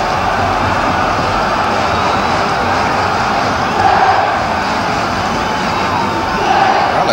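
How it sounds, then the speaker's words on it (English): A fairly sparse crowd at a 1975/76 Stoke football match cheers and supports its team, a steady, distant roar of massed voices with two slightly louder swells. "Stoke getting good support from a fairly sparse crowd"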